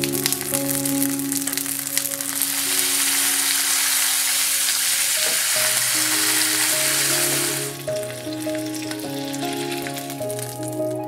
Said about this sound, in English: Melt the beef fat and cook the green onion in the sukiyaki pot to add flavor to the sauce.